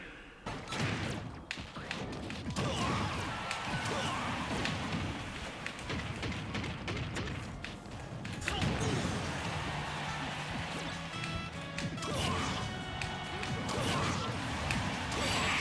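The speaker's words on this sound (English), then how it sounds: "A couple of forward smashes from the Captain Falcon there, and we were able to take out the Tronbon and her cronies" Heavy forward-smash hits by Captain Falcon in Super Smash Bros, a string of loud crashing whacks and thuds over busy game music and effects, no talking.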